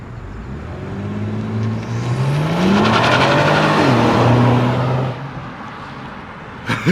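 A 2019 Kia Stinger GT launching hard under launch control, the engine note climbing through rising revs with a gear change midway, loud and close, then cutting off.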